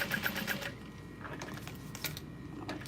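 Sewing machine top stitching a backpack through its lining, a steady rapid mechanical chatter running throughout, fairly close and moderately loud, with no talk.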